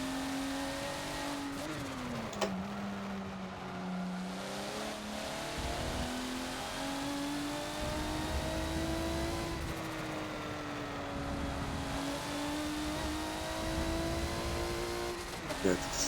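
Race car engine lapping the Catalunya circuit in a Forza racing game, a steady droning whine whose pitch rises and dips through throttle changes and gear shifts, with a person talking over it.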